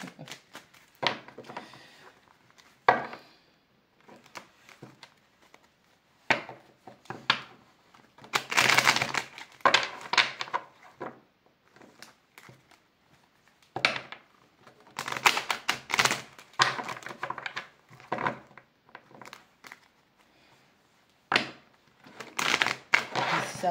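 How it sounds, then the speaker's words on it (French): A deck of cards being cut and shuffled at a table, heard as repeated riffling bursts and papery flutters separated by quiet gaps, with occasional soft speech in between. "Donc, on coupe, on bat ça,"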